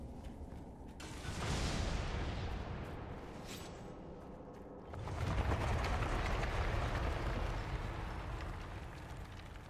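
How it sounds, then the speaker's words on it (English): Rumbling explosions in the video game Dragon Age Inquisition, a sustained loud roar that swells at about one second and again at five seconds, filling the clip without speech. "Get closer to these explosions."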